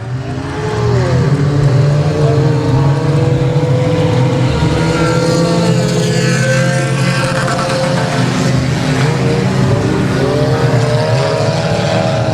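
Four-cylinder race cars at Timberline Speedway roar loudly and continuously, engines droning and revving together as the pack circles the track, with no voices over the noise.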